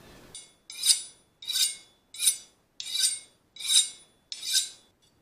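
A sharp knife cutting thick slices of turkey, with six evenly spaced rasping strokes that swell and fade, close and clear, with no talking over them.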